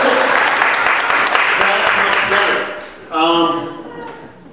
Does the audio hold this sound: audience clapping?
yes